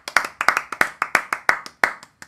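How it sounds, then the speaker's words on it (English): A small group claps in applause during a live celebration stream, about a dozen distinct close hand claps in an uneven rhythm, loud and clear with no talking over them. "Applause."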